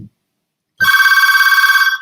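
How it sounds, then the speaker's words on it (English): A landline telephone bell rings loudly and close by in a home office, a rapid trilling burst starting after a short silence and continuing steadily to the end. "excuse me, phone ringing here."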